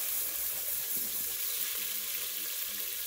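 Ingredients for spaghetti sauce sautéing in hot oil give a steady, even hiss of sizzling in the pan, moderately loud and close, with no talk.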